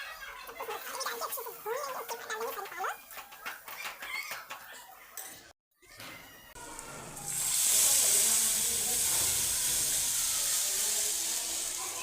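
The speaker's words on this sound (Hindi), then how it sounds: "लहसुन और प्याज अच्छे से सिकने देंगे" Garlic and onion fry in a pan, giving a steady, bright sizzling hiss that settles in after some earlier clucking and voice-like sounds.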